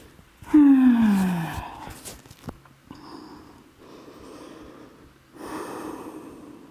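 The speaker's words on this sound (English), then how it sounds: "Take a deep breath in and exhale" A deep breath in and a long exhale in a yoga child's pose, one loud, close sighing outbreath followed by softer, quieter breathing.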